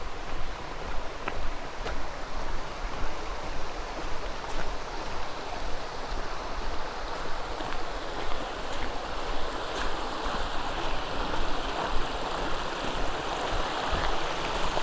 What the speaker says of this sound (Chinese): 这是小溪